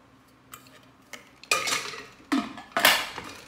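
Heavy, thick-walled Japanese pressure cooker pot being handled, giving a few sharp metallic clanks and knocks spaced apart, growing louder and fuller toward the end, close by with no talk.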